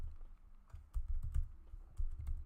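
Soft keystrokes tapped on a computer keyboard in a small room, arriving in uneven bursts of quick clicks with brief pauses between them, fairly close and quiet, with no voices over them.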